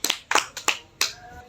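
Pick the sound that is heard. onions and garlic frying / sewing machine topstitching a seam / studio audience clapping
studio audience clapping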